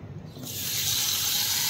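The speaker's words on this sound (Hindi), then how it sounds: "और फिर इसमें डाल लें आप पानी।" Water poured into a bowl of spiced mixture for kadhi, a close, steady rushing hiss that swells over the first half second and keeps flowing evenly to the end.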